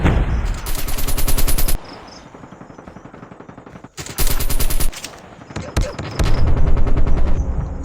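Rapid automatic gunfire from a first-person shooter video game rattles in loud sustained bursts, dropping away between volleys and returning, with a voice briefly heard.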